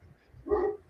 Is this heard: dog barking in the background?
yes